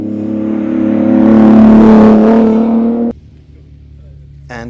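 A 1960s Ford Capri with a 6-cylinder engine at the Rossfeldrennen historic hillclimb race, loud and close, swelling as it revs and passes by, then cutting off abruptly into a low idle hum.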